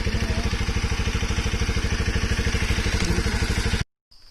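Motorcycle engine running steadily up a small hill near the Hargouri temple, a close, rhythmic mid-pitched thrum that holds evenly for nearly four seconds before cutting off abruptly.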